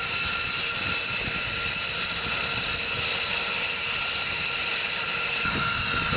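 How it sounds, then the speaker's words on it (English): A B-2 stealth bomber flies overhead with a steady, loud broadband roar and high whine that holds evenly across the whole stretch, with faint low rumbles underneath and no talking. "So this is the B-2 stealth bomber."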